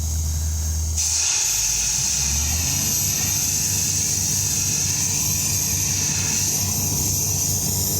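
A compressed-air hose blasts dust off a hay baler, a steady loud hiss starting abruptly about a second in after a low engine rumble, then continuing without a break over a droning engine.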